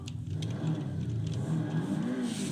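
A Bugatti's engine revs in the Gran Turismo 5 racing game, a steady loud droning roar with a rising whine that holds through the moment.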